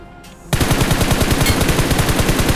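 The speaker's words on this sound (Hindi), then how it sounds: "जैसे ही मेरे पे फायर लेने के लिए अपना एंगल बना रहा था वैसे ही मैंने इसको दे दिया भाई फायर" Rapid automatic gunfire in a battle royale shooter game, a fast steady burst of loud repeated shots that starts abruptly after a brief quiet lead-in and continues without a break.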